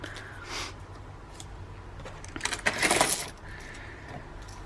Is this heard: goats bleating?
no